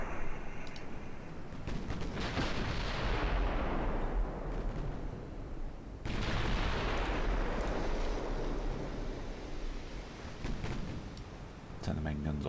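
Main guns of an Austro-Hungarian warship in a naval combat game fire repeatedly, each boom followed by a long rumbling roll. The shots overlap and stay loud almost without pause.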